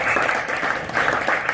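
Audience clapping and cheering at a comedy show fills the room in a steady, dense wash, loud and continuous with no talk over it.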